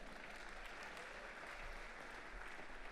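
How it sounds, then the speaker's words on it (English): A church congregation gives the worship team a round of applause, a steady, full burst of clapping throughout with a faint low hum beneath. "Why don't you thank the worship team through the medium of a round of applause."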